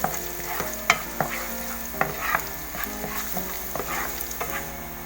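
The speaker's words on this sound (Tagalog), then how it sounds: "Then let's put our garlic. Let's saute." Garlic sautés in olive oil in a pan, a close steady sizzle with frequent clicks and scrapes of a spoon stirring in an irregular rhythm, no talking.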